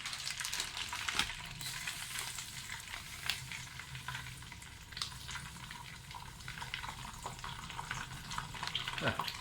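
A steady sizzling hiss of breadcrumbs frying in hot oil, with occasional scraping and stirring clatter throughout.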